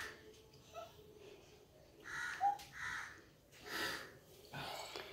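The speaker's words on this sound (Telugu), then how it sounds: "కాకి బొవ్వు అంటదు, కావు అంటది" A crow caws several times in a village setting, with harsh, moderately near calls spaced irregularly and faint background noise between them.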